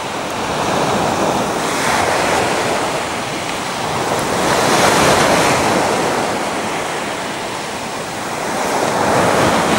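Surf rolls onto Lyubimovka beach near Sevastopol in Crimea, with breaking sea waves swelling and fading in a slow rhythm, and wind buffets the microphone in a loud, continuous roar.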